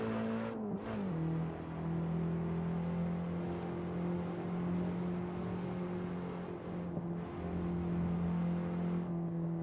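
BMW M3 E30 engine in a Nordschleife racing video game, revving steadily at high throttle with a sustained buzzing drone and brief pitch dips from gear changes, loud and continuous with no talking.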